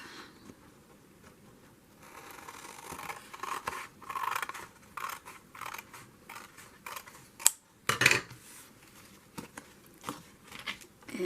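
Scissors snip paper for a Christmas card, making irregular crisp cutting and rustling sounds up close, with quieter paper handling between louder bursts.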